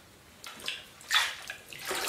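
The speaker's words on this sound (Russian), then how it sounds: "Я вот просто погружаю в таз с водой. Заливаю его водой." Water pours and splashes into a basin as a soaked shoe is submerged and filled, giving a few bursts of sloshing and running water at close range with no voices.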